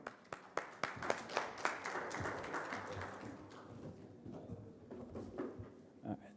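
Scattered clapping from a conference audience starts as separate claps, builds into a short burst of applause, then thins out. The sound is faint and distant.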